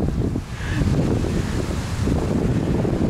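Sea waves surge and wash onto a beach at Nha Trang, Vietnam, with steady wind buffeting the microphone throughout; a continuous loud rushing roar with no speech.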